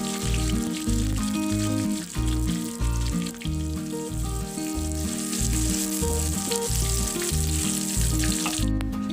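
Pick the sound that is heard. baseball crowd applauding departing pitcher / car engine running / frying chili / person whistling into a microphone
frying chili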